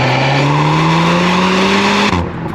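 A Volkswagen Golf 8 R, 2023 20th-anniversary limited edition, driven in drift mode: a loud, sustained engine note rising in pitch with tire squeal, close and continuous, cutting off abruptly near the end, with no talk.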